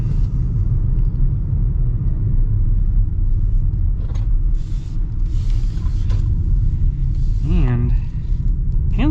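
A 2025 Hyundai Kona accelerates with a steady low engine and road rumble inside the cabin, while a person talks over it.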